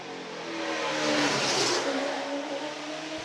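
IROC race cars roar past on a street circuit at a Washington D.C. grand prix, a dense, loud engine wash swelling to a peak around the middle as the pack goes by, then easing off slightly, with no talk.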